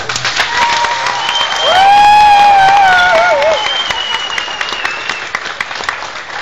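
A comedy-show crowd in Iasi breaks into loud clapping and cheering, with a voice giving a sliding, whistle-like vocal cry over the applause midway before the clapping carries on strongly.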